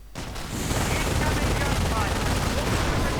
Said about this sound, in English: Grenadiers with MGs tear through them. MP40's definitely adding, so do the Panzerschrecks.